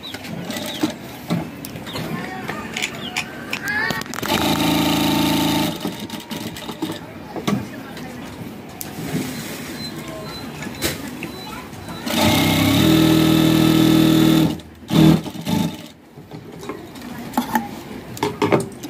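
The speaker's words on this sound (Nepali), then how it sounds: "अब यस्तो तरिकाबाट यसले चाहिँ सिलाइ हानेको छ" A sewing machine stitching fabric whirs in two steady, loud runs of several seconds each, with a person talking in the gaps between them.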